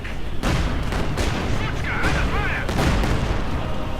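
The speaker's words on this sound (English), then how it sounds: "Grenadiers here getting absolutely bombed the snot out of" Artillery shells pounding German grenadiers in Company of Heroes 2: dense, continuous booms and crashes of battle, loud and close, with faint in-game voices mixed into the barrage.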